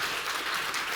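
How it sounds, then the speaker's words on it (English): Audience applause at a forum speech, a dense steady patter of many hands clapping in a hall, continuous through the whole moment. "Please welcome her with a big round of applause"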